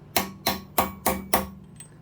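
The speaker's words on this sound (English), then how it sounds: "Hammer it a little bit there, and actually do hit on the back of the stud." A hammer taps the back of a jammed cam extractor stud: five sharp metallic strikes at an even, steady rhythm, close and clear, each leaving a brief ring, with no talk.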